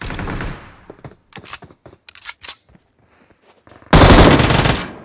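Uzi fire in PUBG Mobile: a loud rapid burst opens, followed by scattered sharp clicks and short pops, then a long, very loud sustained burst near the end.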